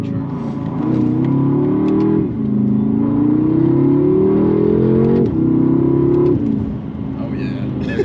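A BMW F10 M5 with a Valvetronic Designs exhaust and OEM downpipe revs up repeatedly, its engine climbing in pitch in several rising pulls that drop back between revs, loud and close, fading at the end.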